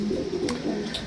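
Racing pigeons coo inside a loft, a low steady warbling murmur that fills the whole second, with a couple of faint higher clicks on top.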